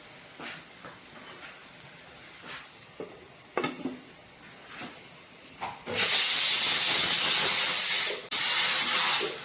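Baji chili (bajji mulaku) thoran cooking in a pan gives a loud, steady hissing sizzle that bursts in after several faint clinks and stirs, with a brief break near the end.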